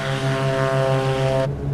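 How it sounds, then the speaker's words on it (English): A Black Square B60 Duke twin piston plane in Microsoft Flight Simulator drones with a steady supercharged engine tone and layered harmonic whine, loud and continuous, with part of the sound cutting off near the end. "You hear the whine of the supercharger?"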